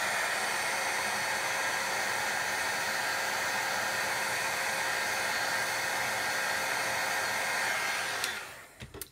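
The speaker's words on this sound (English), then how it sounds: "Let's go ahead and set this powder." A heat tool blows steadily for about eight seconds as it melts embossing powder, a loud, even whoosh of hot air that holds constant and then cuts off and winds down near the end.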